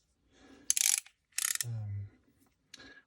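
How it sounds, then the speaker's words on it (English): Clicking of a Ghidorah push-through ratchet fitted with a non-standard handle: a few sharp, close metallic ratchet bursts with brief pauses between them. "Another Ghidorah ratchet. This one a push-through model"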